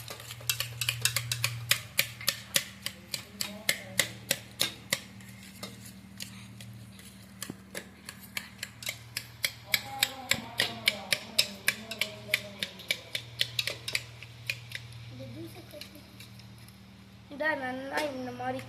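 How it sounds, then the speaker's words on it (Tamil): Spoon clinking repeatedly against a glass while watermelon juice is stirred, a steady run of sharp ticks with a low hum beneath and a brief voice partway through. "நல்லா இந்த மாதிரி கலக்கணும்."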